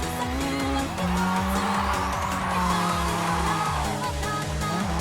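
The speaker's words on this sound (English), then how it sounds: "it's a little bit harder to put your starter car into drift with a clutch kick" Starter car in JDM: Japanese Drift Master drifts after a clutch kick. The engine drones with rhythmic pulsing while the tires squeal steadily over several seconds, all close and loud.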